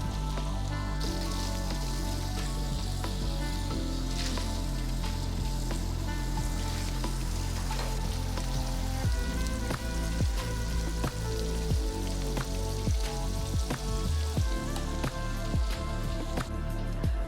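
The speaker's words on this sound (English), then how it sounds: "Into this same skillet, we will be adding our diced red onion, leek, and snow peas right into the pan." Diced red onion, leek and snow peas sizzle in a hot skillet as a dense, continuous crackle scattered with sharp pops and spits, close and steady throughout, with no talk.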